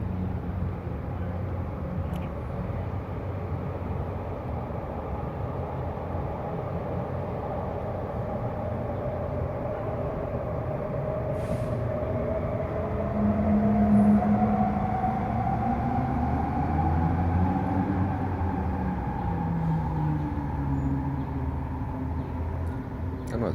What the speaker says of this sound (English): But the moment I hear that train, I can just start talking faster.